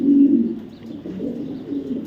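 A racing pigeon coos close by as it is handled for release, a low, soft throaty murmur repeating in short phrases.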